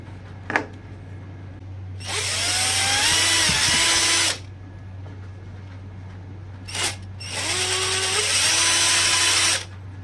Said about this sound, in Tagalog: Gamit ang itong drill natin, ayan, portable drill. So, bubutasan muna natin dito guys